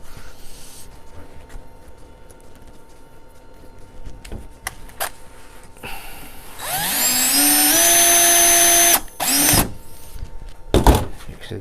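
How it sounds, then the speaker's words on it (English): A drill gun drives screws into a mini fridge. Quiet handling and a few sharp clicks come first, then a loud whirring burst that rises in pitch and runs for about two seconds, followed by short bursts. "Drill gun."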